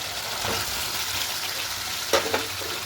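Potatoes fried in a spiced onion masala for a vegetarian aloo dum, a steady close sizzle with brief stirring clatters near the end.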